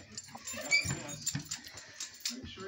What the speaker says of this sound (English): this is the dog that got stuck in the car